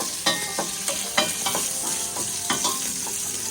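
Tomato sauce for pasta, with carrot added, sizzles in a pan while a utensil scrapes and stirs it in several distinct strokes, close up with no talking.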